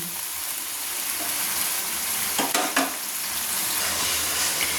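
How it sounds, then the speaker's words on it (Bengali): Onions fry in oil in a pan for mutton kasa, a continuous close sizzle with a few louder stirring scrapes midway, no voices. "পেঁয়াজটা একটু লাল লাল করে ভাজা হওয়া পর্যন্ত আমরা অপেক্ষা করব"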